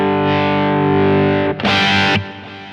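Electric guitar played through a Kemper amp profiler on a medium-gain rock profile, sustained crunchy distorted chords ringing out, then a brief burst of brighter strummed attack near the end, no talking.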